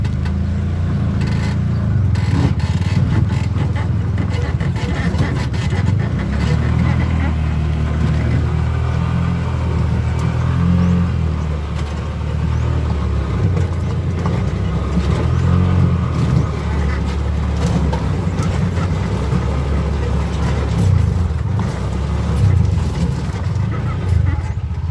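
A Maxima Z motorcycle rides along a rough road, its engine droning steadily and loud with wind rumble and bumps, while a rider talks at times.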